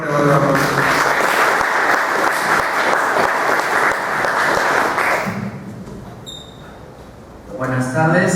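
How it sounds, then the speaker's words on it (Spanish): Applause from the audience at a university thesis-experience talk in the electrical engineering faculty, dense and loud for about five seconds before thinning out; voices start near the end. "la cual la presentamos con un fuerte aplauso"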